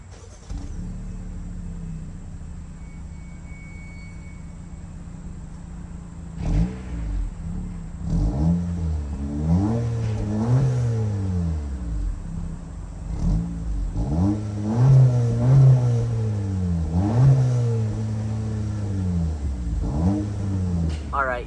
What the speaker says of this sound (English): Now let's hear the exhaust.